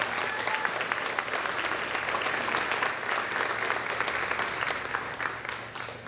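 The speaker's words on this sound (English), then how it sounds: "Ladies, you deserve a round of applause and more." An audience at the 2021 Miss Grayslake Pageant applauding the contestants, a steady, full roar of clapping that holds for several seconds and tapers slightly at the end.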